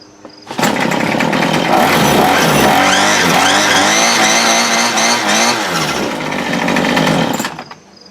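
A 2016 Murray M2510 25cc gas string trimmer starts up and runs for several seconds at a loud, buzzing high pitch with wavering revs, then cuts off abruptly.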